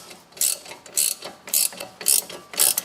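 Wrench ratchet clicking while loosening a bolt during front wheel bearing replacement on a Chevrolet Cruze; five evenly spaced bursts of bright metallic clicks, close and fairly loud, with no talking.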